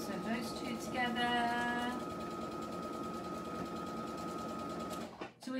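A sewing machine joins quilt pieces for a shadow quilt block, humming steadily at close range while a voice talks over part of it; the motor stops abruptly near the end.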